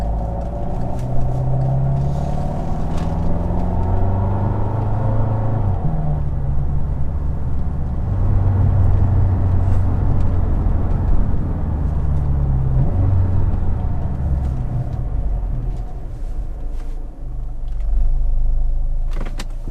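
A car coasts slowly through a turn while its new brake pads are bedded in, giving a steady low road rumble and engine hum that carries on evenly for the whole stretch with no talking.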